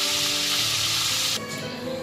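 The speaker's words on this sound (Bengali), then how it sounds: "এইবার তেল গরম করে তেলের মধ্যে ছেড়ে দেবো।" Potatoes coated in salt and turmeric drop into hot oil for chicken kosha, giving a loud, dense, continuous sizzle that eases slightly near the end.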